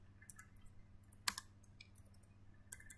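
Light clicking keystrokes on a computer keyboard while entering network switch port-security commands, irregular and close with one sharper key press, faint over a low steady hum with no talking.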